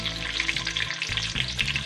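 Sliced onion hitting hot cooking oil for chicken biryani, a close, loud, crackling sizzle that holds steady throughout with no voices.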